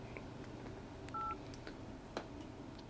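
Key tones from the dial pad of a Nokia X3 Touch and Type phone: a few short, clean beeps spaced apart, quiet and close, with no voice over them.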